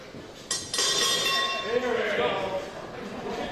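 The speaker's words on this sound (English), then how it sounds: "Bell's rung" A single bright boxing ring bell clang rings out and lingers at a pub fight night, with a crowd and voices murmuring underneath.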